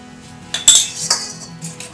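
A spoon clinks and scrapes against a bowl while water is stirred into banana mash, several sharp metallic taps close by over a quiet background.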